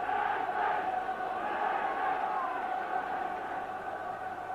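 A large football crowd at an evening match, Dundee United against Vardar Skopje in the 1985 UEFA Cup, roars and chants in encouragement, a steady dense wash of massed voices sustained throughout at fairly close range.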